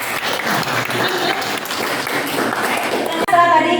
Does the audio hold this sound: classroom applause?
yes